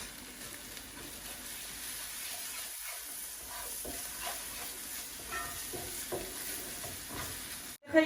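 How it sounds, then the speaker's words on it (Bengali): Masala with green chilies frying in a pan while cooking Shorshe Ilish, a steady soft sizzle with occasional stirring scrapes, fairly quiet throughout and ending in a sudden louder clatter. "এখন এই যে আমি কাঁচামরিচ ওগুলা দিলাম মশলাটা ভালো করে ভুনছে"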